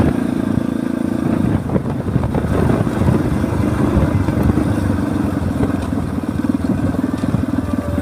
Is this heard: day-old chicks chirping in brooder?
no